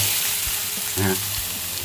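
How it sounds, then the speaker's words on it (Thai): Diced onion frying in a pan for a burger recipe, a steady sizzle that runs the whole time under occasional faint stirring sounds, close and moderately loud. "จะผัดหอมใหญ่ก่อนนะฮะ"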